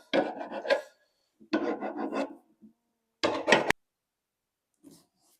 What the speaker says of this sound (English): we need to spend a minute just filing off any tool marks